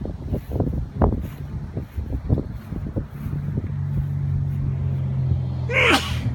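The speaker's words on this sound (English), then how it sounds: "Now we have a sneeze." A single sharp sneeze bursts out near the end, following low rumbling background noise and a few muffled knocks.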